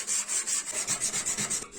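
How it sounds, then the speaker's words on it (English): Rhythmic back-and-forth sanding on a folding knife blade made from a saw blade, about a dozen quick even rasping strokes, close and fairly quiet. "sanding"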